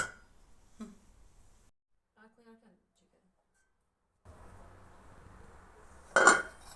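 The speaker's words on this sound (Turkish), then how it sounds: "Biraz karıştırıp tencerenin kapağını kapatıyoruz" Quiet kitchen clinks and a faint scrape as bulgur is stirred in a pot, then a soft rustle and a sharp metallic clank as the lid settles onto the pot.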